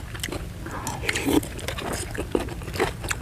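Crunchy chewing of spicy Thai pounded salad with leucaena seeds and fermented fish sauce, close-up bites and crackly crunches in an irregular rhythm, a few sharp snaps standing out.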